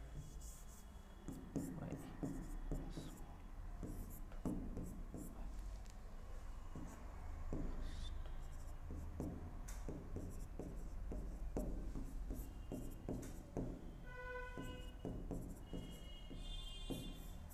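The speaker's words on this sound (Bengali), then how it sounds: "এখানে এটা লিখে দেই" Writing on a board during a Bengali maths lesson on limits, a continuous run of scratchy strokes and taps beneath a teacher's voice explaining the working.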